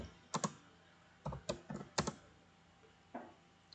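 Typing on a computer keyboard: a few quick, close clusters of crisp keystrokes separated by short pauses, fairly quiet and without speech.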